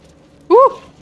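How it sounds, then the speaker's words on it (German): A dog in a Baldur's Gate 3 game gives a single short whimpering yelp, rising then falling in pitch, loud and close for about a fifth of a second over a faint low background. "Achso, das war der Hund"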